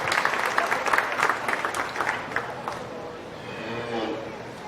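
Crowd applause for exhibitors of a pair of heifers at a county fair beef show, a brief scattered round of clapping that fades out after a few seconds, with an announcer's voice over part of it.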